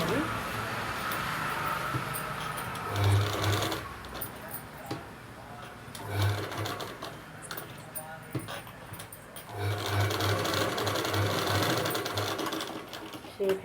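A sewing machine top-stitches a dress in bursts, its motor whirring in several runs separated by pauses, with a voice talking throughout between and over the stitching.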